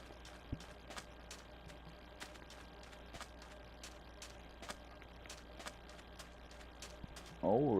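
Horse hooves clip-clop in Minecraft as a faint, steady train of sharp knocks over a quiet background, ending with a sudden louder burst of noise.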